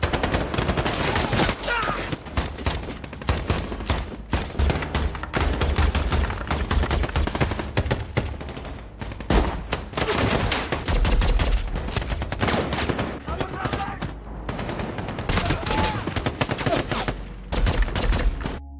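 A dense, loud exchange of gunfire sound effect, with rapid volleys and machine-gun bursts from both sides overlapping without pause throughout, set during a sniper duel battle scene.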